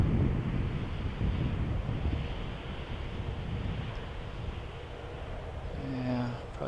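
Wind buffets the microphone at an RC airplane flying field in a steady, broadband roar that rises and falls, with a faint voice near the end.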